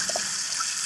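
Water flows steadily over organic red rice during a rinse, a close continuous splashing trickle with a few small bubbling plops, short and unbroken, with no voices.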